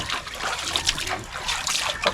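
Water is poured from a container at a rural provincial home, a close, irregular trickle and splatter of liquid that keeps running unevenly, with no voices.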